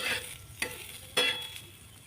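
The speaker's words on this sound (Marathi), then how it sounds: "आता ह्यामध्ये घालूयात कांदा. हा मस्त सोनेरी कलर येऊन भाजायचा आहे आपण ह्याला." Chopped onion frying over a low flame in a little oil in a pan, with a soft steady sizzle broken by two sharper stirring scrapes, close and fairly quiet, no voices.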